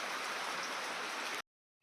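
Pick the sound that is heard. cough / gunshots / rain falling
rain falling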